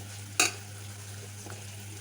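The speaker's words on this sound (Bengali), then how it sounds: "প্রথমেই পেঁয়াজটা ভালোভাবে ভেজে নিতে হবে।" A utensil clatters once against a pan, then a soft steady sizzle and hiss of onions frying continue over a low electrical hum.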